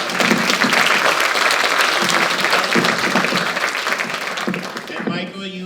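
An audience applauds at a senior volunteer recognition breakfast, with sustained hand clapping that runs loud and even, then thins out near the end as a voice begins speaking over it.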